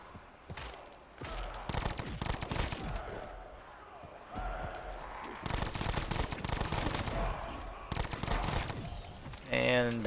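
Bursts of rapid automatic gunfire hit zombies in a video game, with repeated clustered volleys separated by short pauses and a voice talking between them.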